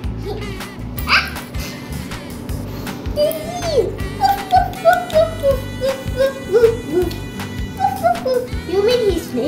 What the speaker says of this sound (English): I'm thinking a dog is in there.